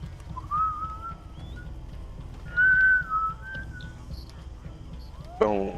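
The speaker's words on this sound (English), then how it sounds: "Please don't whistle in my ear." A person whistles straight into a microphone, a few wavering tones rising and falling, close and fairly loud over faint background noise.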